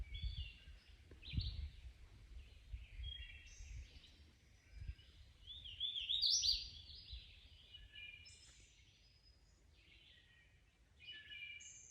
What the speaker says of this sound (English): Hear nothing but birds.